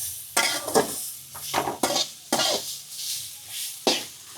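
Grated carrots are stirred in ghee in a pan, producing a series of irregular metallic scrapes and clanks of a spoon against the pan over a faint sizzle, close up.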